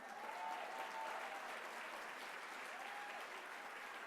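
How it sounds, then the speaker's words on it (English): Steady applause from a gala audience at a Cobb Democrats event fills the whole stretch, fairly quiet and distant, with faint voices sounding through it. "So I'd like to give a warm welcome and a round of applause for my mother, Claudette Owens, who is here today."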